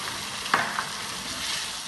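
A soft sizzle of garlic ginger paste frying in a hot pan, with a brief stir or clatter near the start, steady and close.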